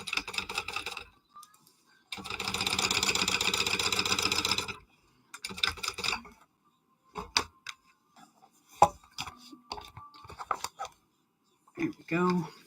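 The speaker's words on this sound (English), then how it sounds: "I'm going to top stitch these real quick as well." A home sewing machine top stitching a bag panel, one steady close burst of rapid stitching for a few seconds, followed by scattered clicks and handling noises of fabric and tools.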